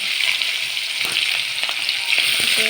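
Onion and garlic hitting hot oil produce a steady, loud sizzle with faint clinks and stirring scrapes, the crackle continuous throughout with no voices.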